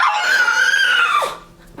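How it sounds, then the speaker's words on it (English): A person lets out one long, loud, shrill scream of fright, held steady for over a second before it breaks off and drops away, close and alone, staged for a short film made for a school English project. "You're just gonna scream like something's gonna kill you."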